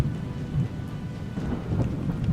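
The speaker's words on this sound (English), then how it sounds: "When the rains fall over Uluru" A thunderstorm pours rain over Uluru in the Australian outback, with a steady hiss of rainfall under a deep rolling rumble of thunder, loud and without speech.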